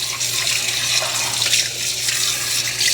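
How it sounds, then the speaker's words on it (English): Tap water runs steadily to rinse Narwal robot mop parts in a sink, a continuous close splashing hiss with no pauses and no voices. "Now you're just going to rinse it all off."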